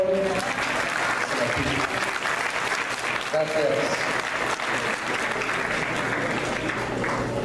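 An audience at a diocesan assembly claps steadily for a priest, a dense sustained round of applause that fills the room, with a voice briefly speaking over it.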